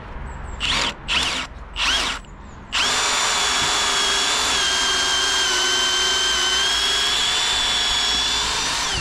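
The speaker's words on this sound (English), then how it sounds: "Got plenty of grunt, that good drill." A Milwaukee M18 cordless drill pulses in three short bursts, then runs steadily at high speed with a loud, continuous whine.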